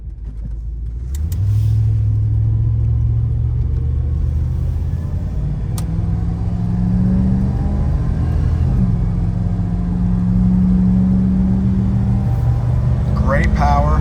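A 1990 Chevrolet Suburban 2500 4x4 pulls away and drives, its engine rising into a loud, steady low rumble with gear-change dips in pitch, heard close from inside with a voice talking over it.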